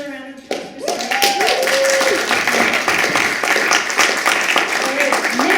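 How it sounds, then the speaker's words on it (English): Audience applause for a poet at a winter poetry showcase, a steady dense patter of many hands clapping close by, with a brief voice at the start and a few faint voices mixed in. "Another round of applause for Cindy."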